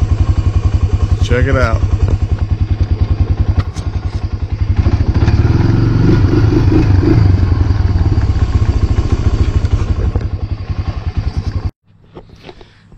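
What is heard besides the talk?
2006 Honda 300EX ATV engine running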